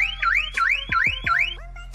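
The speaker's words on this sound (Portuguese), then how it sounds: "É um som de alarme" An electronic car alarm sounds as a loud, close, rapid warbling siren that sweeps up and down in four repeating whoops before cutting off, with a faint low hum beneath.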